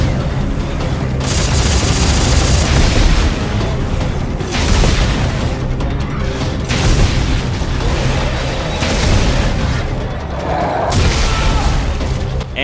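Repeated grenade blasts and combat noise in Dead Space 3, a dense, loud barrage of booming explosions and crackling bursts rolling almost continuously with brief dips between hits.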